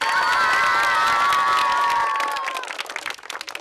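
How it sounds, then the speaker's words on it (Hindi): Children cheer and shout together with scattered clapping at a street magic show, loud and sustained, then trailing off into sparse claps. "अब बच्चा लोग बजाओ ताली।"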